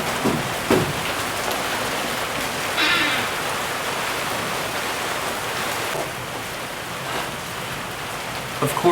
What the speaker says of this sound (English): Of course, as I'm about to pull the battery out, it starts raining.